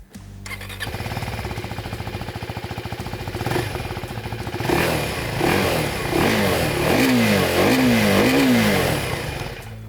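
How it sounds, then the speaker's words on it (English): A 2024 Husqvarna Svartpilen 401 motorcycle engine starts and idles with a rough, lumpy beat, then is revved up and down in several rising and falling pulls. "It's a slightly rough, not very sweet sounding engine at low revs"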